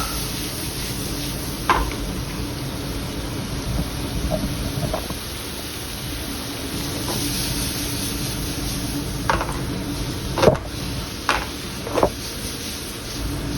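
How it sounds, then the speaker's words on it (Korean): Onions stir-fried over high heat in a pan for ganjjajang black bean sauce give a steady, close sizzle, broken by a few sharp knocks and scrapes of the utensil against the pan. "양파를 넣고 센 불로 1에서 2분 정도 볶아주시면 됩니다"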